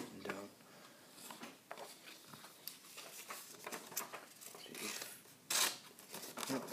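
A sharp Swiss army knife blade slices through a piece of paper, giving soft close scratchy rasps and one louder crisp tear near the end, under quiet talk.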